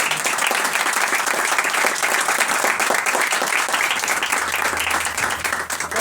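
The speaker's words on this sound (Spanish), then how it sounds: "Dale un fuerte aplauso." A church congregation breaks into strong, sustained applause during a sermon, a dense, steady wash of many hands clapping at even loudness for several seconds.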